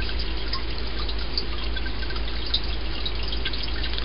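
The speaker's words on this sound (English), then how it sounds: "We'll have to slowly let it drip like a coffee maker." Banana brandy mash liquid drips and trickles through cheesecloth, a steady close watery patter with no pauses and no voices.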